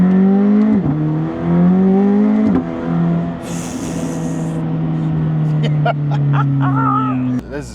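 A car accelerating while being driven, its engine climbing through the revs in rising sweeps with a clear gear change between them, loud and close from inside, with voices talking over it.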